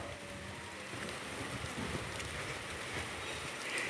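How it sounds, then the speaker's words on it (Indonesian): Steady rain pours down in the Indonesian countryside around Wonosobo, a dense, even hiss with no breaks, moderately loud and unaccompanied by voices. "Ini sudah turun hujan teman-teman di sini."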